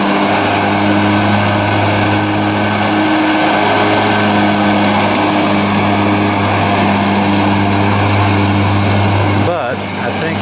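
A remote-controlled riding lawn mower engine drones steadily and loudly close by, its pitch holding fairly even and sagging slightly near the end as the machine struggles on a small hill.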